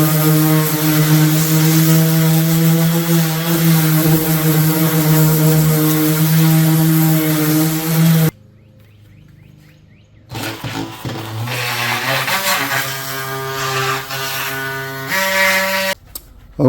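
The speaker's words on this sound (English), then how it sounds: "an orbital sander like this, it's got little holes for the dust." An orbital sander sanding pink foam gives a steady, loud power-tool hum with strong tonal whine, running continuously, cutting out briefly midway, then starting up again.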